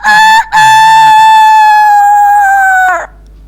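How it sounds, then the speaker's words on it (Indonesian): A rooster crows once loudly and close, a brief opening note followed by a long sustained bright call that holds steady before breaking off at the end. "terdengarlah suara ayam kokok"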